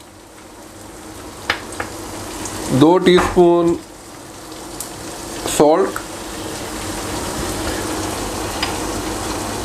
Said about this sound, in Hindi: अभी मैं चिकन को अच्छी तरह भून लूँगा जब तक अच्छी ब्राउन हो जाए